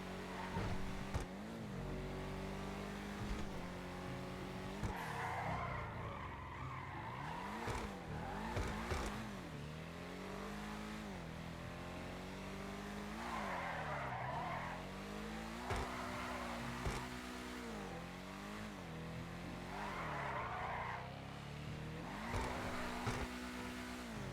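An Obey Tailgater S car in GTA 5 Online is driven fast, its engine revving up and down through repeated gear shifts with occasional tire noise, steady and fairly faint throughout.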